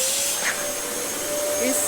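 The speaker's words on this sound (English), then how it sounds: "you see, I'm vacuuming this whole house." A Dyson DC07 upright vacuum cleaner runs steadily and close by throughout, its constant motor whine and airflow roar unbroken, with faint brief sounds over it.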